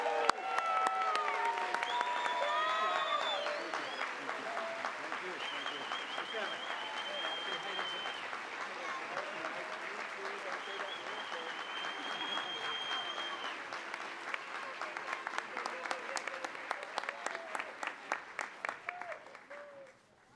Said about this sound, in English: One more big round of cheers, applause for the runners.